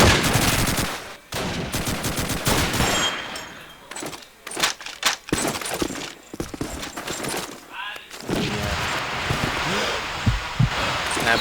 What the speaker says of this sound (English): Firing off a couple of shots through the smoke, but no real threat.